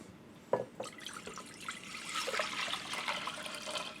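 Water poured into an Instant Pot over dry beans makes a steady, splashing trickle that builds in strength after an initial clunk and drips, nearby and alone without speech.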